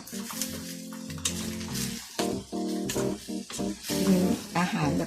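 Carrots and minced pork with morning glory and mushrooms stir-fried in a pan, a sizzle with scraping stirs and clinks of utensils, someone talking over the cooking throughout.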